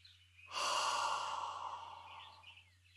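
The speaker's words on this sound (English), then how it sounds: "Take a deep breath in." One long, deep breath is let out slowly, a soft airy sigh that fades over a couple of seconds in a quiet room.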